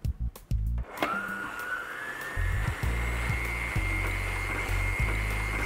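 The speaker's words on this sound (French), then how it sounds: "Ensuite, on met notre batteur, on referme et c'est parti. On va mélanger le tout pendant 1 minute." An electric mixer starts up and whirs steadily while mixing brioche dough made with yogurt, with a few knocks as it is set in place, then a constant motor hum with rhythmic thumps.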